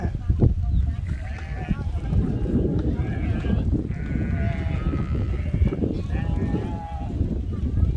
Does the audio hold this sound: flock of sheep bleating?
yes